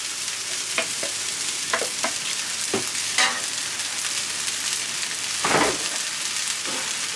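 Chicken fried rice sizzles steadily in a pan after fish sauce goes in, a close continuous crackle broken by clinks and scrapes of stirring.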